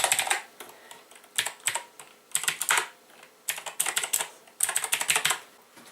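Bursts of typing on a Razer BlackWidow X Chroma mechanical keyboard, close and crisp, with quick clusters of key clicks separated by short pauses.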